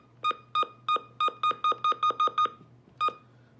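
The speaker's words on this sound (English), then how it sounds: "Button beeps sound" Electronic button beeps from a weather radio: a series of short, clear pitched tones, roughly ten in quick succession with a slight speeding up, then a pause and one more beep, over a low steady hum.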